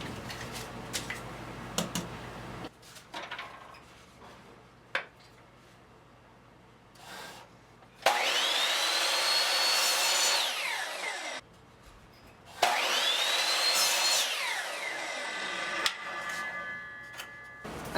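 Power saw cutting wood pieces for a dining hutch furniture makeover, two bursts of high, whining cutting noise after a stretch of quieter tool handling and clicks.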